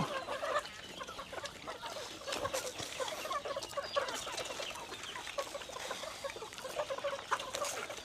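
Chickens cluck in a busy, scattered chorus, many soft overlapping calls from a flock nearby, continuous and fairly quiet.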